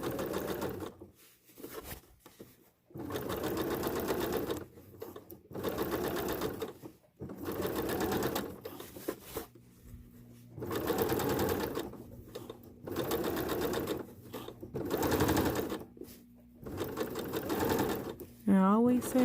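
Sewing machine stitching an invisible zipper runs in repeated bursts of steady whirring and needle clatter, stopping and starting several times with short pauses between, close by with a voice speaking through it.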